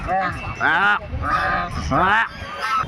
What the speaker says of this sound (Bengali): রাজহাঁস এক পায়ে দাঁড়িয়ে, এই দেখো এক পায়ে দাঁড়িয়ে আছে